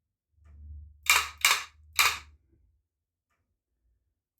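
A Blamcon light gun fires three sharp recoil snaps in quick succession, each a crisp close mechanical crack, after a low motor hum. Silence follows before a final click at the very end.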